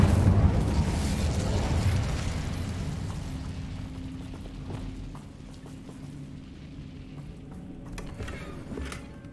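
The Incendio fire spell in Hogwarts Legacy erupts as a loud burst of roaring flame that slowly fades over several seconds, trailing off into low creaks and faint mechanical clicks.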